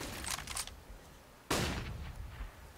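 CS:GO gunfire on de_dust2 during a competitive match, with a short burst of rapid shots followed by a louder, sharper volley that decays with echo, close and punchy.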